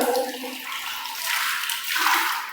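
Water splashes and runs continuously, close by, inside the stone sanctum of a Mahalakshmi temple high on a hilltop at Bhorgiri fort. The broad wash of sound swells slightly toward the end.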